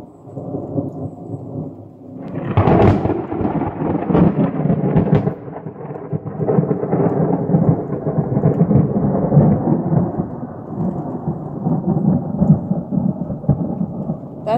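A thunderstorm sounds close by: a loud rolling crack of thunder after a couple of seconds, then sustained rumbling mixed with steady rain for the rest of the stretch, with no voices.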